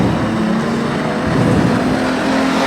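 Street stock race cars roar away at a restart at Redline Raceway, a loud continuous engine drone from several cars accelerating up the main straight, no talk.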